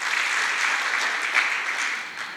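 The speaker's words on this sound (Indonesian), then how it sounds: "Tepuk tangan dulu buat Tuhan Yesus." A church congregation applauds during a youth service sermon, a dense, continuous wash of many hands clapping at even loudness, easing off slightly at the end.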